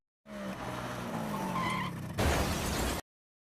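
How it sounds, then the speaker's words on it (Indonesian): A motorcycle crashes into a car in a film scene: a whining engine and skidding tires build up, then a harsh, noisy impact bursts out near the end before sudden silence. "ia menabrak mobil"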